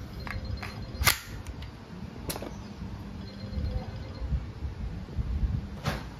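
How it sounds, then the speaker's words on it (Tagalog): An Umarex Colt M45 CQBP airgun fires several sharp, short cracks spaced a second or more apart over low room noise. "Testing po, Colt M45 CQBP. Firing."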